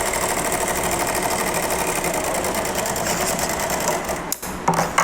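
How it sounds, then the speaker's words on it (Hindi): A sewing machine runs steadily, stitching straight pintuck lines onto cloth for a designer neckline, a continuous close mechanical whir that stops abruptly near the end with a few brief clicks. "जो हम ये सिलाई लगाते हैं ना सीधे कपड़े पे, ये जो लाइन आई है ना, इसी को पिनटक्स बोलते हैं"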